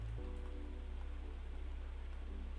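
Rain weather in the Pokémon X and Y video game, a steady synthesized rainfall loop that stays loud and constant for the whole stretch, with a low hum underneath and no talking.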